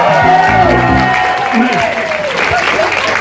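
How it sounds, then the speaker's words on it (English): Applause from a festival audience at Green Man 2018 fills the whole stretch, dense clapping with a bright musical tone ringing over it, loud and close. "Give Charlie a round of applause"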